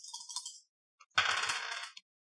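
Two dice rolled during a tabletop role-playing game, a brief rattle, a short pause, a small click, then a longer clattering tumble across a surface that stops abruptly, close and clear with no talk.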